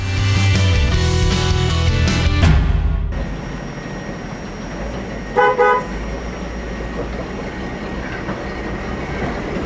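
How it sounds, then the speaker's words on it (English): A restored Toyota FJ40 Land Cruiser horn sounds a loud, sustained tone for about three seconds, then cuts off, leaving a quiet workshop hum broken by one brief second toot midway. "I love it when you can make the horn work on these old steering wheels."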